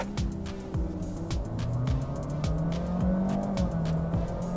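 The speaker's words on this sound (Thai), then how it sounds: "เดี๋ยวเราจะมาลองทดสอบ0ถึง100 กันนะครับ" A Honda City Hatchback e:HEV hybrid accelerates hard from a standstill to 100 km/h, its engine note climbing steadily in repeated rising sweeps as the car gains speed, loud and continuous with road and tyre noise underneath.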